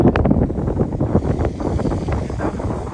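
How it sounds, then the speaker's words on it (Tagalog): Steady, rumbling mountain wind on Hehuanshan in Taiwan buffets the microphone throughout, a dense low roar with gusty swells and no pauses. "Pero mahangin siya, malamig."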